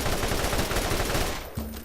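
Rapid automatic gunfire in the video game Borderlands, a dense, loud, unbroken burst that stops abruptly near the end, leaving a low hum.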